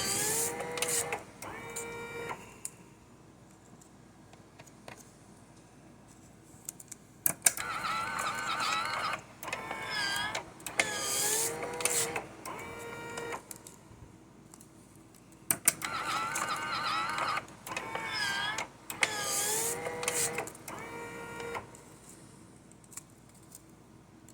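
Powermatic 3 electric cigarette rolling machine runs through several repeated cycles, each a burst of whirring motor and mechanical clatter separated by quieter pauses, close up with no talking.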